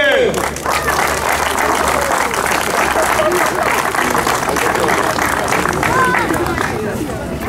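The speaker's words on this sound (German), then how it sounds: "Ich würde gerne noch mal klatschen hier." Continuous applause fills an autocross award ceremony, a steady loud crowd clapping with murmuring voices underneath and a low engine hum early on.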